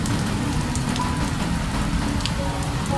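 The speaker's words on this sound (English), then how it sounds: "the rain falls harder for a moment, drumming against the bamboo leaves in a soft roar" Heavy rain drums on bamboo leaves in a forest, a dense, even patter of drops forming a soft continuous roar with no voices.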